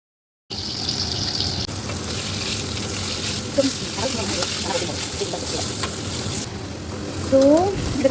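Black and white cumin seeds tempering in hot oil for a Bihari-style rohu fish curry, a steady close sizzle with stirring throughout and a brief louder burst near the end.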